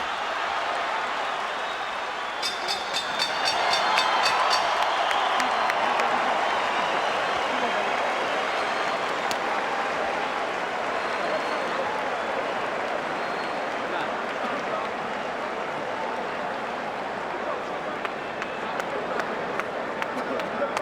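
A boxing arena crowd cheers steadily through the final seconds of a round, a dense, continuous roar with clapping mixed in, loud and sustained throughout.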